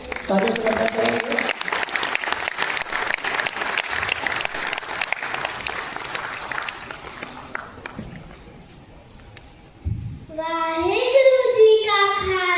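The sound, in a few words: audience applause welcoming a singer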